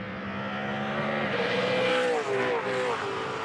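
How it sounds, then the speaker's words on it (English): Touring race cars roar around a racing circuit, a loud continuous engine drone with rising and falling pitch as they accelerate and shift, close and sustained throughout. "Todd's car seems to change direction very well compared to Shane's, but Shane still puts his power down and gets that."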